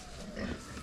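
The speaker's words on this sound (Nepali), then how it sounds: "सुँगुर आएको" A pig on a farm gives a single short, low grunt at close range, faint and brief.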